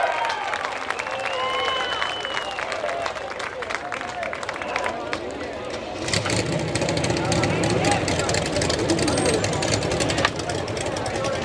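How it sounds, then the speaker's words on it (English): Crowd at a sprint car night at Orrville, Ohio speedway applauding and cheering a feature winner, a broad steady wash of clapping that swells louder partway through, with an announcer talking over it. "Give me another big round of applause, Byron Reed."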